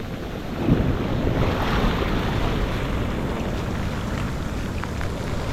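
A set of ocean surf rolling in during a hurricane, a steady broad wash of breaking waves and rushing water mixed with heavy wind buffeting the microphone, loud and continuous with no voices.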